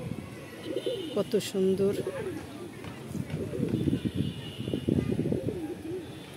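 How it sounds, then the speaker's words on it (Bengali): Pigeons cooing on a home balcony garden, soft repeated low coos close by, mixed in with someone speaking. "কবুতর আছে বারান্দায়।"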